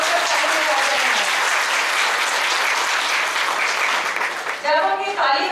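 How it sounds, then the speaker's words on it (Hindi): Lecture audience applauding at a healthy lifestyle talk: dense, steady clapping from many hands fills most of the stretch, then fades as a voice begins speaking near the end. "तो एक बार जोरदार तालियां बजाइए खुद के लिए"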